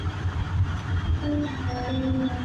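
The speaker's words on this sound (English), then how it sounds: "That long train hauling coal, nothing else, and only 2 engines." A long coal train pulled by two locomotives rumbles past with a low, heavy churning of wagons and engines, a steady close drone with faint tonal horn-like notes rising near the end.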